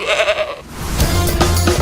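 A goat bleats loudly up close, a wavering drawn-out cry, followed by more quavering bleats.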